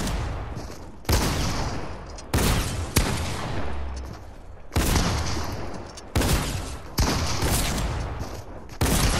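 Pump shotgun fire in the Fortnite video game: about eight loud, sharp blasts at irregular intervals of roughly one second, each followed by a brief ringing tail.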